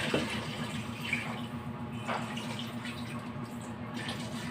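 Water pours steadily into a pot with a continuous splashing gurgle, close and moderately quiet, with a low hum behind it.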